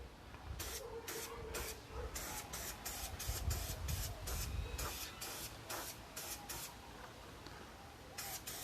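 Spray paint hisses from an aerosol can in repeated short bursts, a dozen or so close blasts with brief gaps between them and some light rustling underneath.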